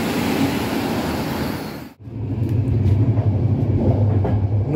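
A train rumbles past at a Moravian rail stop near Rokytnice u Přerova, a loud continuous roar that cuts out abruptly, then resumes as a lower, steady rolling drone with faint rhythmic clatter.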